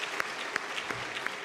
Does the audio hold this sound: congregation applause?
yes